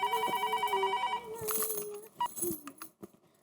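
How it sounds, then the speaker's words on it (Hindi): A telephone rings in short repeated bursts, each lasting about a second, followed by rustling and small clicks. It is set in a fruit market and heard up close at moderate level, with no one speaking. "दया भाभी को फोन करके बता देती हूँ।"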